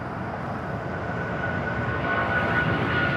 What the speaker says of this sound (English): got that 777 heading to New York, JFK. Now rolling down at 25 right.